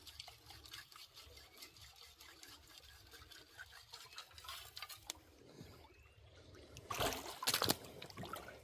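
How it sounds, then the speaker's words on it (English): Muddy water trickles and gurgles faintly down a river sluice set up for gold prospecting outdoors, swelling into a brief louder rush of splashing near the end. "So I'm going to start sending a bit of muddy sort of water"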